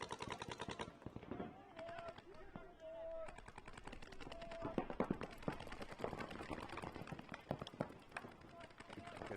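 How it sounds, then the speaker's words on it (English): Paintball markers fire during a five-man paintball race match, rapid bursts of popping shots going on throughout while an announcer talks over them. "Both teams came out ready to shoot some paint."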